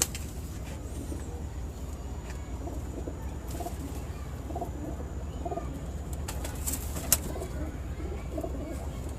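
Several golden pigeon crossbreeds coo softly and repeatedly at a loft, their low murmuring calls steady over a constant background hum, with a sharp tap near the end.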